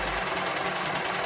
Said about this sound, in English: It's really cool to have a serger that finishes your seams.